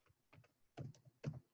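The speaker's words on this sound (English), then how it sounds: "She's having a hard time typing today." Three short bursts of typing on a computer keyboard in a classroom reading lesson, quick clusters of clacking keystrokes separated by brief pauses, close and fairly quiet with no talk.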